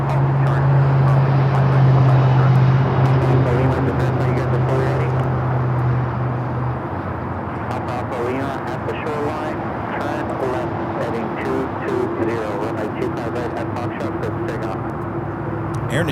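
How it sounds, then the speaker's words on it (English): A Japan Airlines airliner taxis at LAX toward a south side takeoff on runway 25 right, a steady loud jet engine rumble and whine that holds throughout, with a narrator talking over it. "One World, Japan Airlines Streamliner making that turn onto Bravo, now heading down for a south side takeoff on 25 right"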